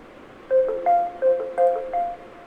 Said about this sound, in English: so this is the sound of the work which just got assigned to me